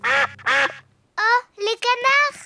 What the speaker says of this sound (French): Oh, les canards!